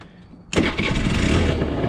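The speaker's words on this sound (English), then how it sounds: "I forgot, you've got to press the brake, otherwise it won't start." A Honda NH80 scooter's electric starter catches and the small engine fires abruptly about halfway in, then runs on at a steady, fairly loud idle with no talking.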